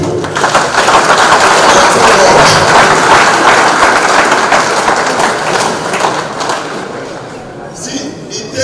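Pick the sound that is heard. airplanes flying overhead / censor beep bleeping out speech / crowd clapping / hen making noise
crowd clapping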